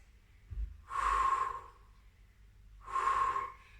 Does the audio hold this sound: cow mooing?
no